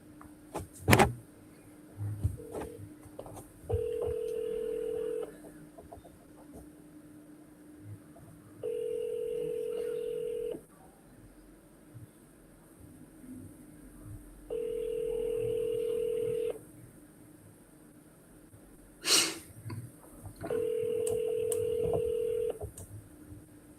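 A phone call is placed with a short burst of dialing tones, then repeated ringback tones, four long evenly spaced beeps over a quiet background with occasional faint clicks and knocks.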